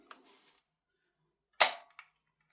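A VFC Umarex HK G3 gas blowback airsoft rifle fires one sharp, loud crack followed by a short metallic click, with near silence around it.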